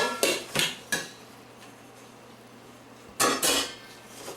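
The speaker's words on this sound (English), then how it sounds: "Put the macaroni into the pan, into the bowl." Cooked macaroni is moved from a pan into a bowl with metal utensils: three sharp scraping clinks, a quiet pause, then two more knocks and scrapes, close by, with no speech.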